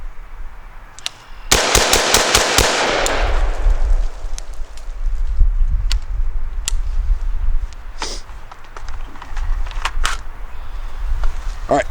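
A rifle fitted with an LPVO scope fires a fast string of loud, close shots that then trails off into a few scattered reports and ambient noise.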